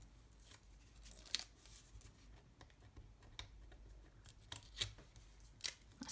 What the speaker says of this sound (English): this time we're actually going to take off all our tape.